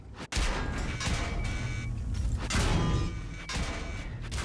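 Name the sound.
tank shots hitting in video game World of Tanks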